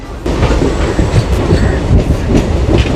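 A passenger train runs toward Srikalahasti station, heard from on board as a steady loud rumble with rhythmic wheel clatter and faint squeals, no voices.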